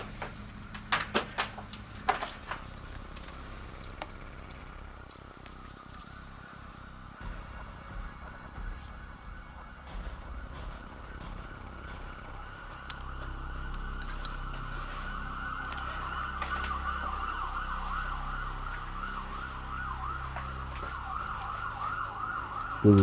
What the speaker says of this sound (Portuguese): nós conseguimos ouvir uma sirene de polícia